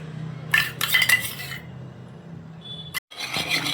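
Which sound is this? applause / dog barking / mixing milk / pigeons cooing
mixing milk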